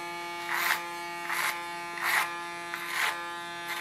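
An electric hair clipper trims the under sections of a short asymmetrical blonde haircut, giving a steady close-up buzz that swells in four short passes as it bites into the hair.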